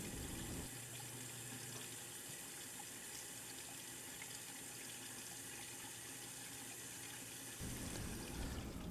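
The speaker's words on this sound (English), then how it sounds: "immediately slide the larger bottle under the water stream. Do not turn the water off between samples." Tap water streams steadily into a sample bottle at a residential sink, a constant close gush that shifts in tone as the bottle goes under the flow and again near the end.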